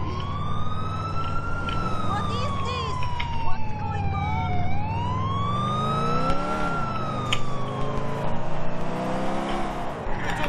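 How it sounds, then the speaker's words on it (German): Wailing emergency siren from the video game GTA IV, rising and falling continuously over a loud engine and traffic drone, fairly close and prominent throughout. "Hier geht immer noch die Sirene."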